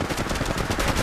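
Rapid automatic gunfire in Apex Legends Mobile, a steady close burst of dense shots filling the whole second at high volume.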